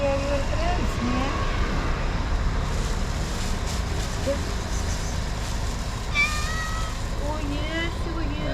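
A cat sitting on an outdoor wall meows repeatedly, asking for food. Its calls rise over constant loud background noise while a person speaks to it.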